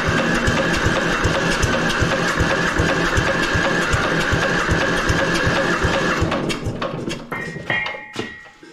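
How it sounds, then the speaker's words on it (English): A diesel trench compactor engine cranks over with a fast, steady mechanical chugging for about six seconds, loud and close, then winds down into scattered clanks and rattles. "I'm gonna go ahead and crank the engine over."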